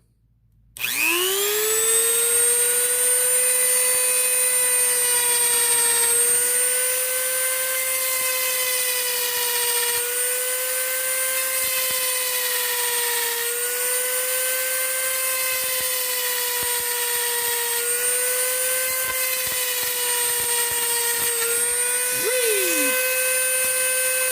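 A high-pitched rotary power tool whines steadily at close range for over twenty seconds, pitch wavering slightly as it bites into a knife handle.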